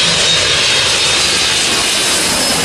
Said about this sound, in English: Alright, YouTube, the plane about to take off